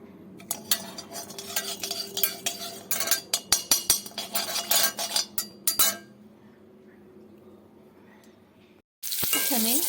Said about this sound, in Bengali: এগুলো আমি একটু ভালো করে ভেজে নেব